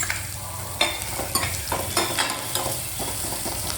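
Onions frying in a pan at home, a continuous close sizzle broken by repeated clinks and scrapes of stirring.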